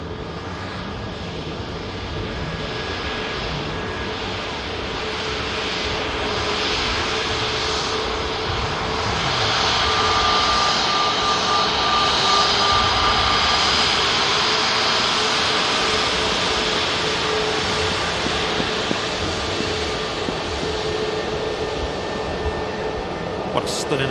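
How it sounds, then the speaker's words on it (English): An airliner's engines roar at an airport runway seen from a visitor park, a broad steady rumble and whine that swells in the middle and stays loud, with people talking over it. "What a stunning aircraft."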